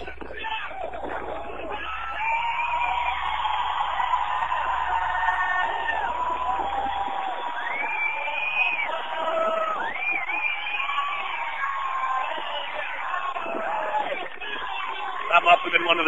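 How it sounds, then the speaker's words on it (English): A beach crowd at a cold-water surf contest cheers and whoops from a distance, a sustained roar of voices that swells after a big wave, with an announcer talking over it. "Can hear the crowd go wild."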